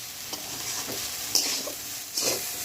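Pasta sizzles as it is stirred and fried in a pan with spices and salt, a soft continuous frying hiss broken by a few brief scraping strokes of the spoon.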